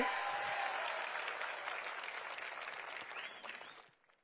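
A large political rally crowd claps at a speech by Andhra Pradesh Chief Minister Chandrababu Naidu, a loud dense ovation that slowly thins and stops abruptly near the end.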